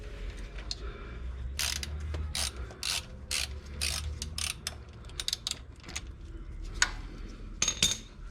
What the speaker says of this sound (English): let's take our oil filter wrench and get this old oil filter off